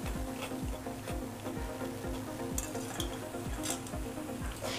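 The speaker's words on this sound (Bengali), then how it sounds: "আমি কত সুন্দর করে উল্টে পাল্টে এগুলো লালচে লালচে করে ভেজে নিচ্ছি।" Goja pastries deep-frying in oil and being flipped, giving a steady close sizzle with soft stirring and scraping knocks throughout, a faint tonal hum underneath, and no talking.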